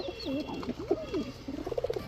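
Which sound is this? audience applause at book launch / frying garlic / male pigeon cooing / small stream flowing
male pigeon cooing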